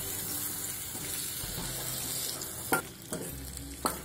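Eggplant pieces stirred with masala in a frying pan, a steady soft sizzle with quiet scraping and three sharp clinks of a spoon against the pan near the end, no talking.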